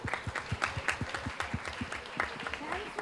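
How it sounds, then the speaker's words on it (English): A summit audience gives a closing round of applause for the panelists, scattered rhythmic claps heard from nearby, with voices talking over them. "Can we have one last round of applause for all our panelists?"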